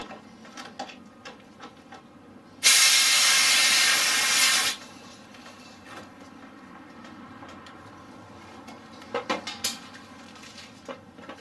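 Refrigerant line being bled at the inlet of a charging machine: a sharp, steady two-second hiss of escaping gas, framed by clicks and clinks of fittings being tightened.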